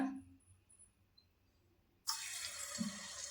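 Bonda batter dropped as a test into hot frying oil, bursting into a loud, steady sizzle about halfway through after quiet kitchen background, with a brief bubbling flare near the end.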